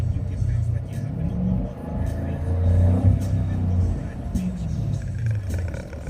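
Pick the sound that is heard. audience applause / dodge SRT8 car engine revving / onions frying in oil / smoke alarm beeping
dodge SRT8 car engine revving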